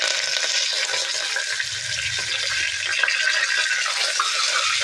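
Whole spices fry in hot oil in a pan: cloves, cinnamon, bay leaf and curry leaves, stirred while they cook, making a loud, steady hiss and sizzle with light scraping, close by and without talk.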